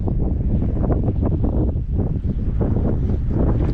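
Strong wind buffets a small fishing boat out on the water, a constant loud rumbling roar of gusts hitting the microphone with no other sound coming through.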